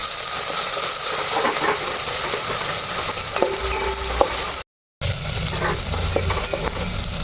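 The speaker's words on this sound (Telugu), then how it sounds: "కొంచెం కరిమాకు ఇదిగోండి ఒక గుప్పుడు పుదీనా ఇవన్నీ కూడా బాగా వేగాలి ఇప్పుడు" Curry leaves, fresh mint and green chillies fry in a pan, giving a continuous close hiss and sizzle with occasional stirring scrapes and a brief silent gap, without talk.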